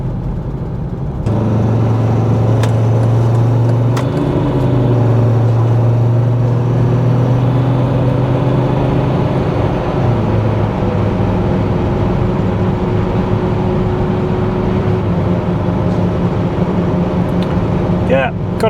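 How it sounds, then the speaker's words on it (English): Steady road rumble and a low droning whir fill the cabin of a 2003 Volvo XC90 D5 driving at speed, with a faint tonal hum from worn bearings running underneath and someone talking now and then. "got a fair bit of bearing noise going on there"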